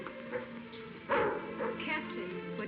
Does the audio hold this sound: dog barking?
yes